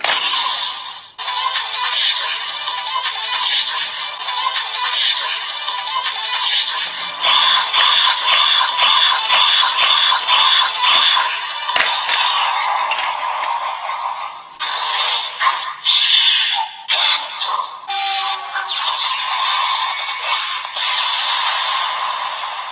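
A DX Bake Magnum henshin toy gun from Kamen Rider Gavv plays its electronic finisher sound, a loud, busy stretch of synthesized effects and music with shifting bursts over about twenty seconds.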